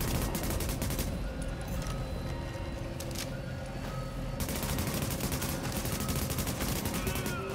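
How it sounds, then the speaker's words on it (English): Sustained automatic gunfire from covering fire in Tom Clancy's The Division rattles on without pause in rapid bursts, loud and dense, briefly easing midway before resuming at full intensity. "I'll lay down covering fire on this floor"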